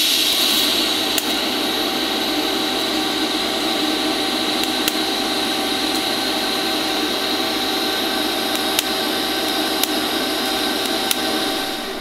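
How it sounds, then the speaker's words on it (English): Continuous loud welding on a steel camshaft being built into a lamp, a steady harsh crackling hiss with occasional sharp pops, running unbroken throughout with no voices. "now to fill the whole lot with weld."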